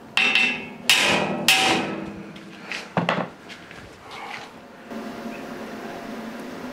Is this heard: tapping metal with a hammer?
yes